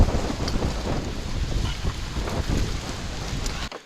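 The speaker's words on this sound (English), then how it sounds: "It's breezy, but we still lucked out with the weather." Steady breezy wind buffets the microphone at a kayak launch during a kayak camping trip, a dense continuous low rumble with gusty swells and no talking.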